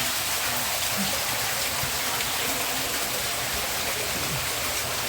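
Water pours down inside a dark cave, a loud, constant rushing hiss that fills the space without pause.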